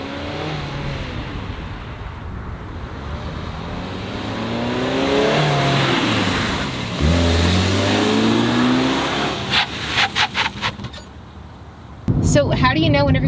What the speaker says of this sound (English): test driving the Mazda now after doing the brake pads and rotors, and it is way better